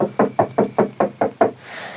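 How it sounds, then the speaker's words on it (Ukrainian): Seven evenly spaced knocks on a door, firm and close, rapping in a steady quick rhythm before fading into faint hiss. "що це стукать почало?"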